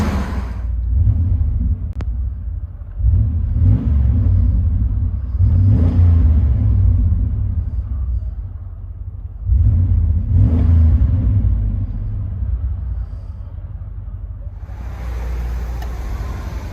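A 1990 Chevy 1500 pickup with a 5.7L V8 and Borla Pro XS dual exhaust with X-pipe revs repeatedly, deep rumbling bursts rising and falling between steady idle, loud and close with no talking.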